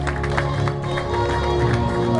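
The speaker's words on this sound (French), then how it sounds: "sous un tonnerre d'applaudissements, l'ovation pour Mélanie Guérin, première féminine" Outdoor crowd applause for a cyclo-cross winner at an international race in Dijon, a steady, dense clapping wash with murmuring voices and a faint tonal hum underneath.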